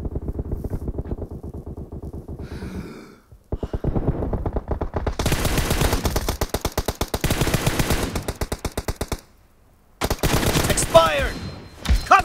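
Rapid bursts of automatic gunfire from the battle royale video game PUBG, loud and close, come in dense rattling volleys with short pauses and a brief silent gap between strings of shots.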